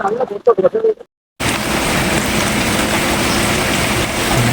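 Heavy rain pours outdoors at a rural fishing spot in Kerala, a loud, steady wash of noise that starts abruptly after a moment of voices and a brief silence.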